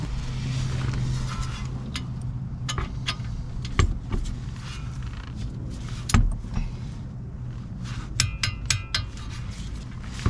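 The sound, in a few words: torquing down brake caliper bolts on a VW Tiguan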